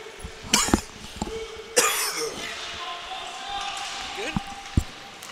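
Two sharp, loud coughs from a hockey commentator close to the mic, followed by softer thuds and a faint squeak amid ice arena background noise.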